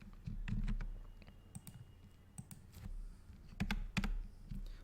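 A computer keyboard is typed on in short, irregular bursts of close, soft key clicks with small pauses while code is copied and pasted, and no one talks.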